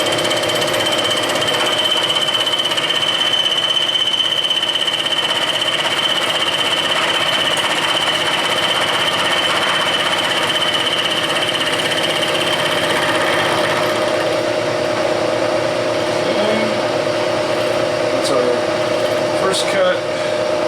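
A Bridgeport milling machine cuts stainless steel with a cobalt roughing end mill, a continuous loud grinding hum with a steady whine and rattling chatter throughout, with scattered clicks near the end.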